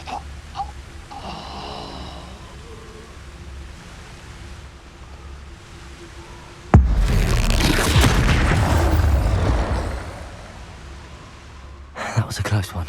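An Expulso explosion spell in Hogwarts Legacy erupts as one loud, sudden blast that rumbles and fades over several seconds, followed by a short burst of further noise.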